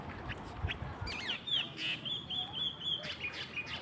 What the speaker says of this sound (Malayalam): ഈ പാലത്തിൽ നിൽക്കുമ്പോഴേ നല്ല കിളികളുടെ ഒച്ചയൊക്കെ കേൾക്കാം കേട്ടോ.